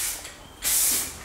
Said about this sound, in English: the DNA spray cans, I've never used them before and I'm telling you, they spray really nice